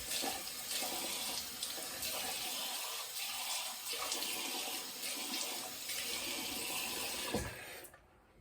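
Cold water runs steadily from a bathroom tap for rinsing the face after a shave, a close, even hiss and splash that continues without pause before cutting off at the very end.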